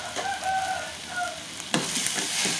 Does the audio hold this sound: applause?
no